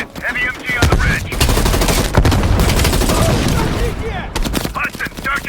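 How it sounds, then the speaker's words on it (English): Heavy machine gun fire in Call of Duty: Black Ops Cold War, loud sustained bursts roaring for several seconds with brief gaps, mixed with battle noise and dialogue. "Heavy MG on the ridge."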